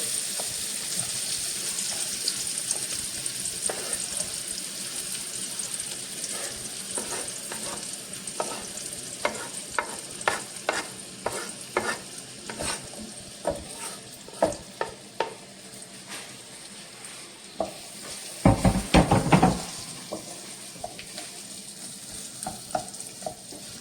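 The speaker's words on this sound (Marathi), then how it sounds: "आता त्याच्यामध्ये आपला कांदा आपण फोडणीत घालायचा आहे" Chopped onion dropped into hot spiced-oil tempering for a sprouted moth bean stir-fry: a steady soft sizzle with scattered clinks and scrapes of stirring, then a louder burst of frying near the end.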